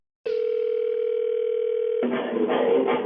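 Telephone dial tone, a steady loud hum lasting about two seconds before being cut into by noisy line sound and voices from a radio morning show.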